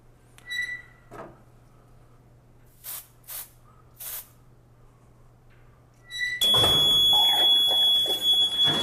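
A piercing electronic fire alarm from an electrically operated deluge sprinkler system sounds after several short hissing sprays, blaring loudly and steadily with a harsh buzzing tone.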